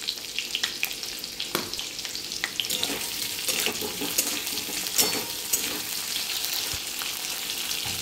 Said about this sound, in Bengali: আমি একটু তেলের মধ্যে হিংটা দিয়ে দেবো